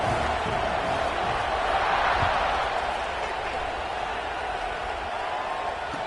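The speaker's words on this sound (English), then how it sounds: "this crowd is feeling themselves after that last drive" College football stadium crowd at a Nebraska game, a broad continuous roar of cheering that swells briefly then settles into a steady distant wash, with a commentator talking over it.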